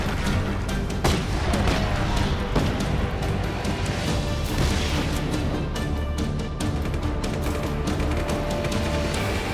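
A sustained explosive crash in Just Cause 3, with dense debris clatter, smashing and booming impacts layered into a loud, continuous chaotic roar.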